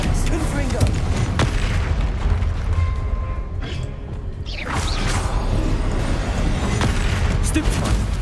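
Spell explosions from Confringo and other combat spells in the Hogwarts Legacy video game, a run of loud booming impacts over continuous battle noise, with a brief lull in the middle before the blasts resume.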